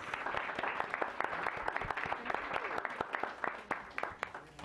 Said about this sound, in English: Why don't we give these young people another round of applause?